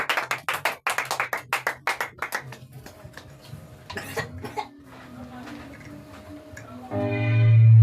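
A church congregation at a Sunday service claps in steady rhythmic beats that fade into scattered claps and murmuring, then a loud swelling noise rises at the end.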